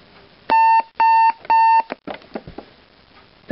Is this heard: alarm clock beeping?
yes